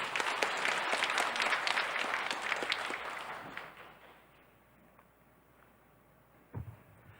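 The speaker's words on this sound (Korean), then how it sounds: "박수로 환영해 주세요." A church congregation claps to welcome a guest, steady applause from a crowd that fades out after a few seconds, followed by near quiet.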